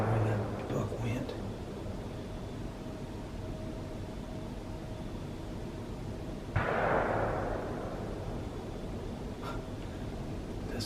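A single gunshot during a suburban deer hunt, one sharp, fairly distant crack with a rolling decay, heard midway through soft outdoor ambience with quiet talking nearby.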